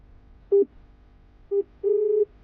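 A phone call being placed, with short tones and then a longer steady tone like a busy or ringing signal, clear and close with nobody talking.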